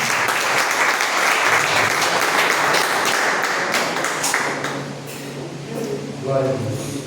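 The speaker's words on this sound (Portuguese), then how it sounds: "Receba o servo do Senhor, aplaudindo a Jesus." A church congregation claps together in dense, sustained applause that fades after about five seconds. A voice and a faint musical tone follow near the end.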